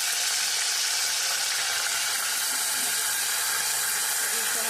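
Ginger garlic paste dropped into hot oil gives a loud, steady hiss and sizzle that holds evenly throughout, close to the pan.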